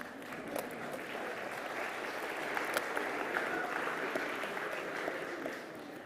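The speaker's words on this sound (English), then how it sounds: "I'm really not sure if you're clapping for him" Steady applause from a conference audience fills the whole stretch, dense and even, with many hands clapping at once in a large hall and a faint murmur underneath.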